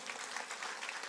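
A church congregation applauds during a sermon, giving a steady, faint wash of clapping that runs evenly throughout with no voices over it.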